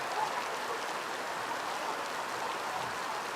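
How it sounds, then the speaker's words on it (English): Heavy rain pours down on an outdoor athletics stadium during an international schools' championship, a steady, dense hiss that holds evenly throughout with no break. "The showers are so heavy here today"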